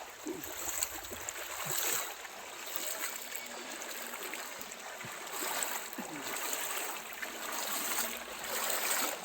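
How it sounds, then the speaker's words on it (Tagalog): A strong, fast-flowing current of flood water surges through a river beside farm fields, a steady broadband rush of churning water heard close and continuous with no voices. "Ang tubig dun lakas yung ragasa niya. Doon sa ilog."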